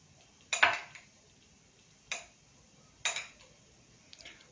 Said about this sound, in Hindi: ये अब जो हमारे फ्रूट्स हैं इन्हें हम अच्छे से मिक्स कर लेंगे।